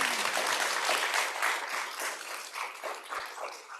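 An audience gives a round of applause to a psychiatry panel at a grand rounds session, a close, full burst of clapping that gradually thins and softens over about four seconds.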